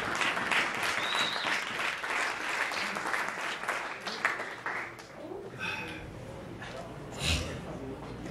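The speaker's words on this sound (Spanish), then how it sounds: "Un aplauso para usted." Audience clapping at a Spanish-language stand-up comedy show, brisk applause with scattered shouts and voices mixed in, thinning toward the end amid chatter.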